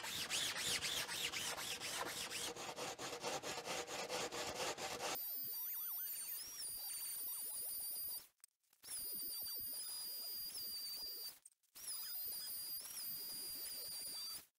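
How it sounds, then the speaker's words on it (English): A carbon fibre wing is sanded by hand in rapid, rhythmic rasping strokes at first, then in quieter scratchy passes broken by short pauses. "we're going to give it a sand, and we're going to smooth it out completely"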